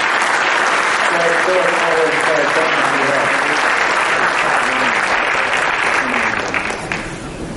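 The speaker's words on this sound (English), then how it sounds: "Will you help me give them a round of applause and thank you again?" An audience applauds as speakers leave a stage, sustained clapping from a large crowd with a few voices underneath, holding steady and then fading out near the end.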